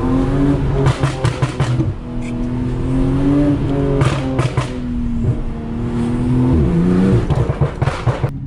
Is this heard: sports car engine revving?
yes